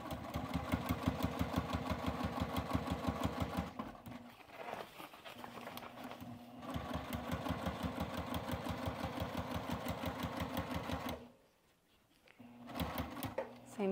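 A sewing machine stitches fabric for an apron in a steady, close rapid rhythm, slowing as it is hand cranked into a corner, pausing briefly, then falling quiet before resuming.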